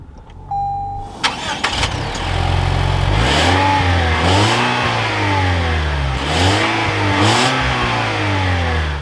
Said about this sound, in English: let's fire this up and take a listen to this 300 F Sport.